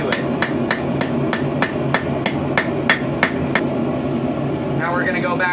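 Blacksmith's hammer striking a rebar taper on an anvil, a dozen evenly spaced ringing blows, close and loud, over a steady background hum, then the strikes stop.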